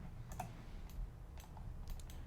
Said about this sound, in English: I press G on the keyboard and I press Shift Z.